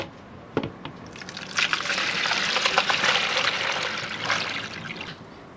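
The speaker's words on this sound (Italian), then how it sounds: "Adesso andiamo a togliere le patate dall'acqua. Prendiamo uno scolapasta." Sliced potatoes and their starchy soaking water are poured into a colander, a soft rushing splash that builds for a few seconds and then tapers off, heard up close with no speech.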